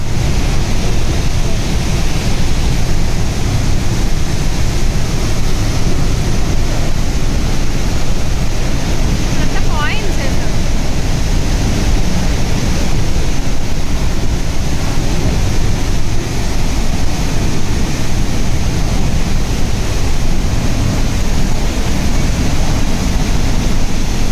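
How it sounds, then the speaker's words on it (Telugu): A loud, steady roar of water falling about 170 feet at Niagara Falls, Canada, fills the scene without pause, a dense, unbroken rush that stays constant throughout. "మన పైనుండి ఆల్మోస్ట్ 170 అడుగుల ఎత్తు నుండి మన ముందు వాటర్ ఫాల్స్ అలా పడుతున్నప్పుడు ఆ సౌండ్స్"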